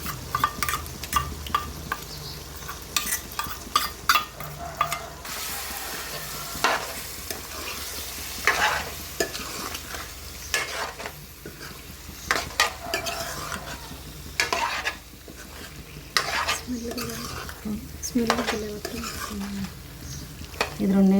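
A paste of ginger, garlic, coconut and poppy seeds frying in a pan gives a continuous sizzle for a bottle gourd dish, broken by frequent metal spoon scrapes and clinks against the vessel, up close with no talking.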